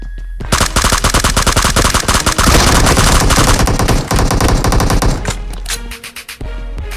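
Dense rapid gunfire from a prone shooter in a battle royale video game, loud sustained bursts of automatic fire with scattered single shots, easing off near the end.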